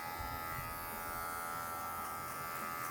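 Electric hair clipper fitted with a number 1 guard cutting hair low on the head during a mid fade, giving a steady close electric buzz with no talk over it.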